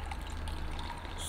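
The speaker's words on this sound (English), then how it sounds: "And then I'm gonna add some water." About 100 ml of water is poured into a 25% salt solution prepared for testing amber, a quiet, steady liquid trickle under a low background hum.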